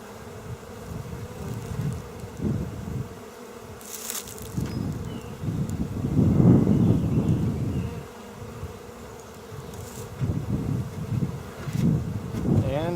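Honeybees buzz around an open hive during an inspection, a steady close droning hum that swells and fades as bees pass near, with gusts of wind and a few soft handling knocks.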